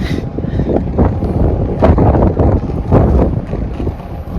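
Gusty Antarctic wind buffets the microphone in low, rumbling bursts that rise and fall. It is loud and close, with no talking.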